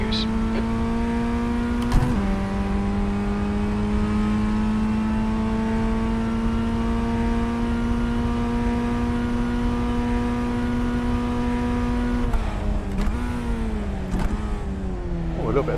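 A formula race car engine drones loudly and steadily from inside the car at Sebring, pitch climbing gradually, then a brief stutter and dip as the revs drop and recover near the end.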